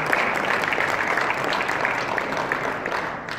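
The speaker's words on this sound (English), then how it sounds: "put your hands together and a big round of applause for Dubai Quality Group and Ideas Arabia" An audience applauding at an award ceremony closing an Ideas Arabia conference, a dense, steady wash of clapping from many hands filling the room, slowly easing off toward the end.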